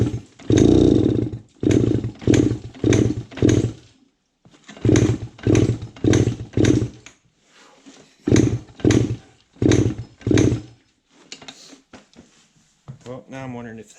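A 1974 Honda MT125 Elsinore two-stroke motorcycle engine sputters to life in short revving bursts, catching and dying in an uneven rhythm, loud and close. A brief voice follows near the end.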